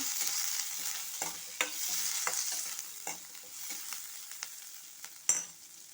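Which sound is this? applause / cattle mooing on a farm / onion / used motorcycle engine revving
onion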